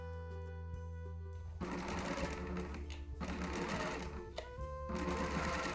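A sewing machine stitches bias tape onto the neckline of a drop-shoulder tee, starting after a brief quiet moment and then running steadily and close up, with small pauses and no talking.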